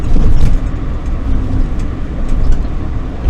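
A car drives through the back streets of Port Adelaide in the evening, a loud, steady interior rumble of engine and road noise heard from inside the cabin.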